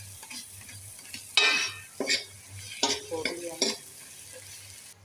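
A spoon stirs cream into an onion vegetable curry in a pan, giving several short scraping, clattering strokes against the metal over a faint low sizzle, close up with no talking.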